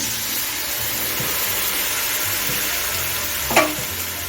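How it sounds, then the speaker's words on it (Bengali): Spice paste sizzles steadily in a kadai of fried onions, with a constant close frying hiss and a single short scrape of stirring near the end. "এখন আমি বানিয়ে রাখা পেস্টটা দিয়ে দিচ্ছি"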